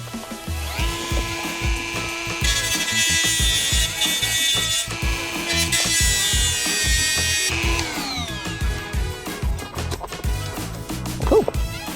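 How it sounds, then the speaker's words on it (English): A Dremel rotary tool cuts a hole for a camera installation on a 2013 Scion FR-S, its loud, close whine holding steady in long passes that rise and shift in pitch as the bit bites, with brief gaps between cuts. "All right, now we gotta cut out a hole for this"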